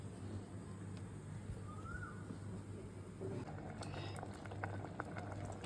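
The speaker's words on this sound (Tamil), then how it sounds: "இதில் வந்து பருப்பு வேகுது" Lentils simmer with turmeric powder in a pot, a soft continuous bubbling and gentle popping that runs throughout at low level, with a few faint clinks near the end.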